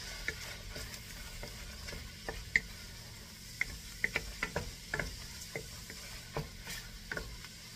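Shrimp fry in sesame oil in a pan with a soft, steady sizzle, broken by frequent light ticking pops and clicks of a utensil stirring, fairly close but quiet overall.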